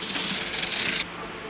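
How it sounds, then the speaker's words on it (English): A MARTOR SECUPRO 625 safety knife pierces cardboard and slices open a window cut. It gives a loud, close, continuous scraping rasp for about a second and then stops abruptly. "For window cuts, pierce the cardboard and cut an opening."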